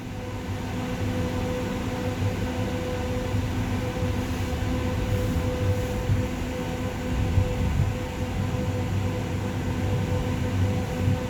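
An EXO commuter train rolls along the rails in winter, heard from the rear cab, giving a continuous low rumble and hum with steady rail noise and no voices.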